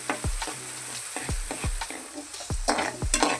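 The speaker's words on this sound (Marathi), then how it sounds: "कांदा चांगला परतून घ्यायचा गुलाबी रंग येईपर्यंत" Chopped onion sautéed in a pan, sizzling steadily while a spatula stirs in regular sharp scrapes about every half second, close up and without voices.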